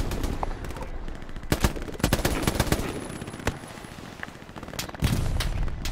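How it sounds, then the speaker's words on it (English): Suppressing machine gun fire in a Hell Let Loose Stalingrad battle crackles in loud, rapid bursts of sharp reports, with a heavier boom around five seconds and distant gunfire throughout. "We must put down suppressing fire!"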